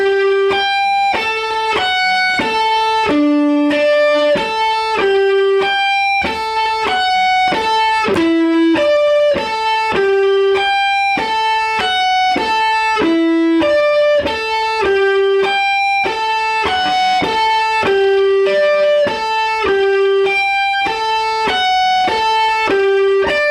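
An electric guitar plays a riff slowly, clean plucked notes in a repeating pattern, loud and close, with no talking.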